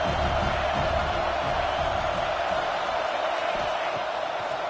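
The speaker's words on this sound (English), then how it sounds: "Listen to the crowd energy here in the early going. This is a tough environment for visitors." A football stadium crowd roars early in a game, a dense, continuous wash of cheering and noise that stays loud and unbroken throughout.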